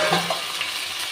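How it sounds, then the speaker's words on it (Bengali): Chicken meat fries in a pan with a steady close sizzle, and a short stirring scrape near the start. The burst lasts only about a second and nobody speaks. "লাল লাল করে মাংসটা ভাজা হয়ে গেছে"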